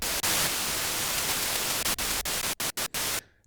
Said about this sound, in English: We also have the noise source, which sounds pretty much like white noise.